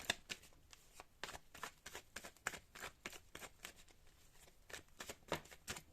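Tarot cards being shuffled by hand: a quick, regular series of crisp riffles and slaps, close and distinct against a quiet room.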